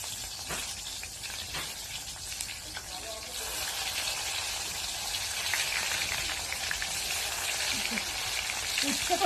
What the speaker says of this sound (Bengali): আগে উচ্ছেগুলো ভেজে নিই।